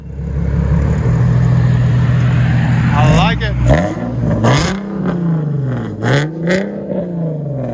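A 2017 Nissan 370Z 3.7L with headers and MagnaFlow mufflers idles, then revs hard several times in sharp bursts, loud and close, with someone speaking briefly between revs.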